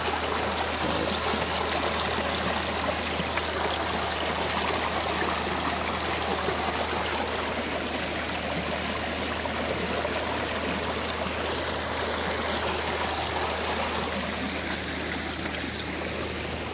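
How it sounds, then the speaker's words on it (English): Water from a stream in a Kenyan village rushes steadily, a broad, unbroken wash with no breaks or voices over it. "I've noticed that this stream over here, this water is actually used for drinking."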